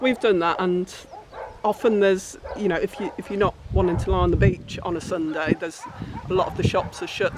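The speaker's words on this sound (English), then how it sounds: "if you can hear the dogs barking in the background" Guard dogs bark repeatedly at a market in the south of Fuerteventura, the barks sharp and fairly close, cutting in under and between a conversation between two people.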